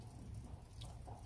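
Steady rain patters on the roof outside a van parked on a hilltop in the Oxfordshire countryside, a soft continuous hiss with low rumble, no voices.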